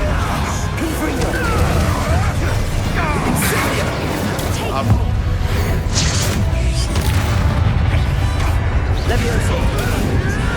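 Confringo spell explosions in Hogwarts Legacy crash and boom through a dense, loud battle mix with a continuous busy roar; game voices speak underneath.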